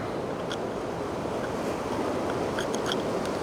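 Steady rushing surf washes continuously onto the shore, a broad unbroken roar of breaking water with no voices.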